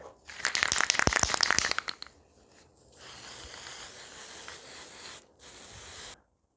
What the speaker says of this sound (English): I forgot all the other little bits that have to be spray painted too